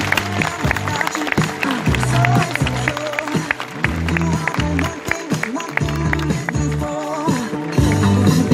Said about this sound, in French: on peut applaudir très fort une dernière fois Cookie et Jimmy